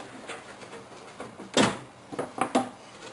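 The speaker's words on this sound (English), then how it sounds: "I'd like to just simply slide out the panel, comes out like with a nice meaty thunk." Side panel of a Cooler Master HAF-X computer case being slid off after loosening two thumb screws, giving a single loud, meaty thunk of metal, then a few lighter knocks and clicks close by.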